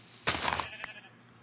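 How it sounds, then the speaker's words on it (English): Sheep bleating in a video game, one loud bleat carrying a short burst of noise, followed by a brief click and a fainter tail. "And there's some sheep over there."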